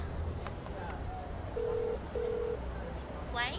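A phone call is placed in a TV drama, giving two steady ringback tones in quick succession over a low room hum, with brief murmured talk before them.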